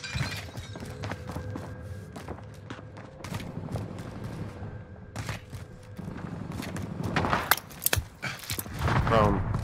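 Gunfire from a Warzone Rebirth Island match, a spread of sharp cracking shots and short bursts scattered across the clip, growing denser and louder toward the end over steady game ambience and occasional talk.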